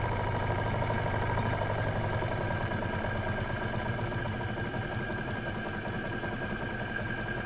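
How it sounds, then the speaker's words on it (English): A small twin-cylinder steam engine runs continuously with a steady, rapid mechanical chuffing and knocking rhythm, close and even throughout. "This is a really nice little engine"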